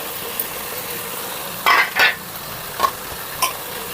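Biryani masala of ginger-garlic paste, tomato, green chilli and coriander fries softly in a pan, with a faint steady sizzle broken by a few short scraping stirs of the spoon.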